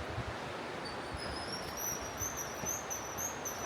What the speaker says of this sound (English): I can hear some birds, but I can't make them out.